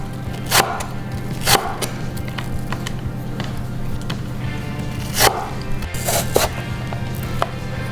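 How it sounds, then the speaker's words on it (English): A knife slices and julienne-cuts apples on a cutting board, producing sharp, separate chops at an uneven pace over a steady low background hum, close and loud. "So we're gonna finally slice the apples. And then finally, julienne."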